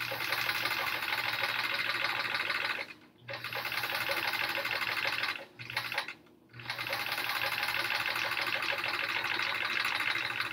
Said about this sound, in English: I'm going to just try and stitch on top of these pieces